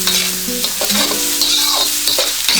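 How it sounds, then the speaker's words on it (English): Grated carrots and spring onions stir-frying in a pan for chicken fried rice make a loud, constant sizzle, with a spatula scraping and squeaking through the mix in uneven strokes. "We'll add some spring onions. And we will fry."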